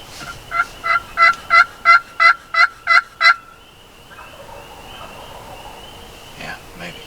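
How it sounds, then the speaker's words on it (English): Wild turkeys double gobble in a rapid, rattling burst of about nine pulses, fairly close, followed by a quieter stretch with faint distant calls. "they are just double gobbling like crazy"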